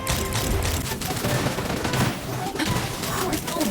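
Video game battle with dense, continuous gunfire, a rapid fusillade of overlapping shots and blasts that stays loud and steady throughout.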